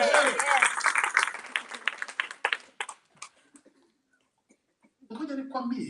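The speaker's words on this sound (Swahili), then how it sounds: "Pigie Bwana makofi anayeeleweka." A church congregation claps for the Lord during a sermon, a lively round of applause that fades into scattered individual claps and near-silence before a preacher resumes speaking.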